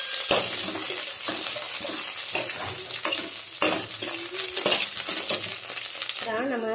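Onions sautéing in a pan for a brinjal kadaiyal, a loud continuous sizzle broken by repeated scraping strokes of a spatula against the metal, steady and close with no talking.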